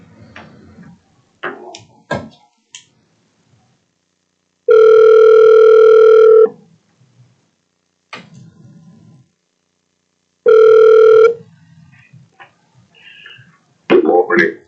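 Steady telephone dial tone heard twice in loud sustained stretches while a call is placed during a board of education meeting, with brief talk and clicks around it.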